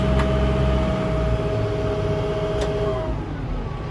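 A Kubota M4-071 tractor engine drones loud and steady up close after the PTO is kicked out, its pitch sliding slightly lower as the throttle is eased back, with no voices over it.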